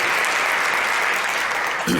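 A crowd applauds the President at a bill-signing ceremony, a steady, dense wash of clapping that carries through the whole stretch with no break.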